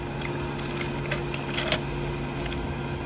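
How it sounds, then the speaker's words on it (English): An air conditioner fan runs steadily at a campsite, a constant broadband whir with a low steady hum, holding even from start to finish with a few faint clicks, no voices. "The background noise, the fan is running from the air conditioner."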